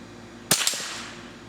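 A single sharp crack from a .22 rifle fired at a target, close and loud, with a brief ringing tail that fades within a second against faint outdoor background.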